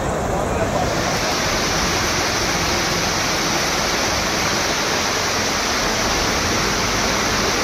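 Monsoon floodwater rushes in a dense, roaring wash during heavy rains, a loud unbroken torrent with hissy spray filling the whole stretch, close and overwhelming.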